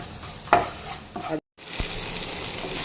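Cauliflower masala with salt being sautéed in a pan: a low steady sizzle with a few spoon scrapes, a brief moment of silence midway, then frying resumes, no talking.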